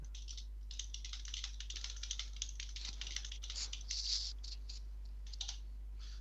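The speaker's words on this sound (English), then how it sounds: "I'm typing it to you." Rapid clicking of typing on a computer keyboard, close and fairly quiet, with irregular bursts of keystrokes running through the whole stretch and no voices.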